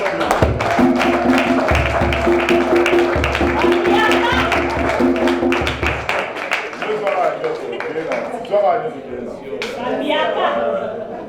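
Many people clap at a fortieth-anniversary community celebration honouring couples, with dense clapping mixed with loud music or amplified tones at first, then continuing with crowd voices.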